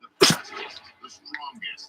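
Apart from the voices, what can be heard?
sneeze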